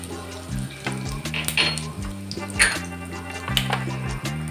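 Cumin seeds and asafoetida crackle in hot oil while cluster bean chutney is made, a close sizzle with sharp pops and stirring clinks over a steady low hum and background music-like tones.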